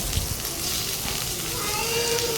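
Ginger garlic paste sizzles steadily in a hot pan, a dense, continuous frying hiss that stays even and close for the whole moment.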